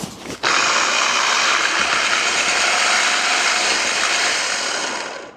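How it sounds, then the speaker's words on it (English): A small Hamilton Beach blender whirs loudly and steadily for about five seconds, a dense high-pitched motor roar that starts abruptly and tapers off at the end, with no talking over it. "here goes that blender again"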